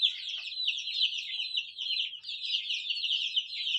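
Dense clucking and chattering from a flock of native chickens on a poultry farm, steady and continuous throughout, fairly close, with no talking.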